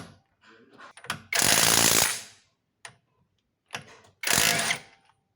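Pneumatic impact wrench removing the lug nuts from a car's right wheel during a DIY brake service, firing in two loud, rattling hammering bursts of about a second each, separated by short clicks and quiet gaps.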